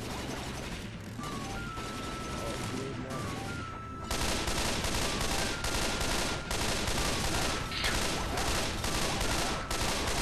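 Sustained gunfire in Left 4 Dead 2: dense, rapid shots and mechanical clatter run continuously, growing louder and busier halfway through, with no voices over the barrage.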